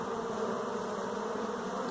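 A steady, dense buzz from many honey bees swarming around a hive box, continuous and close throughout.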